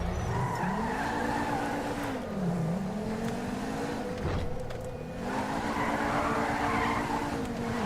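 A car in GTA 5 skids through a test drive, with a loud, continuous tire squeal that bends in pitch through turns over a steady engine drone and a short dip midway.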